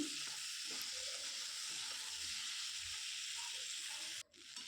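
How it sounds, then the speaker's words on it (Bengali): Potato pieces with turmeric fry in a pan for a cauliflower-potato fish curry, an even close sizzle with soft scraping as they are stirred, ending in a sudden brief drop near the end. "দু মিনিট মতো এটাকে ভালো করে নেড়েচেড়ে ভাজছি"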